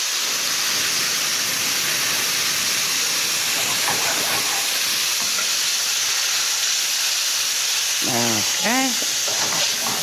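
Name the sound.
white wine hissing into hot pan with toasted paprika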